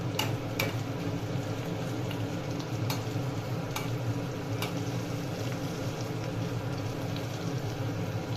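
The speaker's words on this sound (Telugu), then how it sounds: "పచ్చిమిరపకాయ కొంచెం వేగాలి." Green chillies fry in hot oil with spices for a chana dal chutney, giving a continuous moderate sizzle with scattered sharp crackles and pops throughout.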